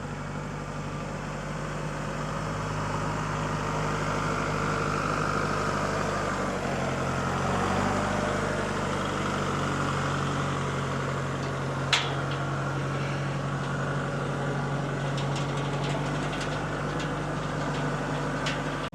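Farm tractor engine running steadily while driving out to pasture on a small farm, a continuous low rumble close by, with no talk and a brief clank partway through.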